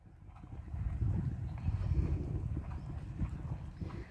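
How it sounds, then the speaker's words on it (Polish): A horse cantering over cavaletti poles in a riding arena, with steady rhythmic hoofbeats thudding close by throughout. "Teraz to jest galop inny."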